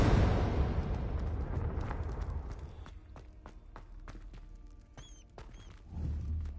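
A Confringo blasting spell explodes in Hogwarts Legacy, a loud burst fading into a rumbling decay, followed by light footsteps and a soft thud near the end.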